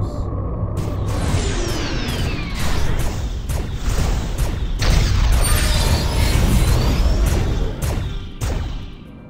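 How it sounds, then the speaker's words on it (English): Space combat in the Starpoint Gemini II video game: a ship drops out of warp with a sweeping whoosh, then a rapid volley of missile launches and booming impacts crackles and rumbles for several seconds before fading. "you want to drop out of warp and blast them with missiles"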